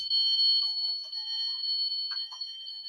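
A toy car's alarm: a steady, piercing electronic tone drones continuously at a moderate level, with small clicks and blips scattered through it.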